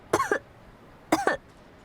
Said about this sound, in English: She broke out into a fit of coughs and slammed her glass onto the table.